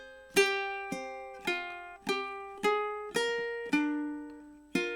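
Ukulele picks a melodic lick, eight clear plucked notes in an even, moderate rhythm, each ringing and decaying, close and alone.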